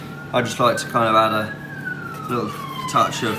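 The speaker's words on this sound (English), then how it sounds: "sorry about the siren there" A faint, wavering siren drifts in from a distance, rising and falling slowly beneath someone talking close by.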